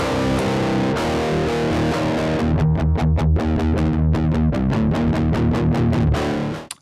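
Electric guitar overdriven through a Hotone Heart Attack pedal with gain set halfway, a sustained distorted chord giving way to fast palm-muted chugging, loud and close, ending abruptly.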